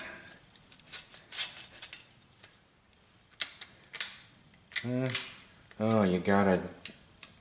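Metallic clicks and clacks of a semi-automatic gun's mechanism being handled, safety being worked, come in short bursts alongside close speech and an exclamation.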